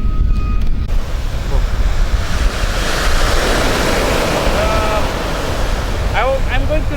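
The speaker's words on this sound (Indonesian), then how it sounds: "saya akan tunjukkan pantai yang tidak jauh dari lokasi pembangunan MotoGP" Waves wash onto a beach near the Mandalika MotoGP circuit in Kuta, Lombok, a loud continuous surf roar with heavy wind buffeting the microphone and faint chirps in the background.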